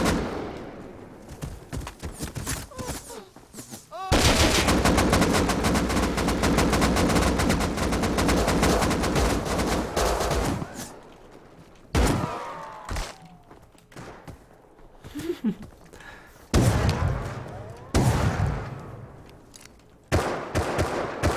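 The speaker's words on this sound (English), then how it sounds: "We're just shooting people at this point." Automatic rifle fire in the survival game Rust, including a tempered AK, as dense sustained bursts and scattered shots, loud and close, with gaps between volleys.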